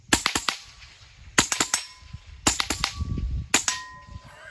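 An AEA HP Carbine .30 caliber semi-auto air rifle fires four quick bursts of sharp, close cracks, each burst a rapid string of three or four shots followed by a brief pause.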